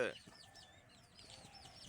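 Native village chickens clucking at a farm where they are raised, several birds giving soft overlapping calls throughout, moderately close, with faint background chatter.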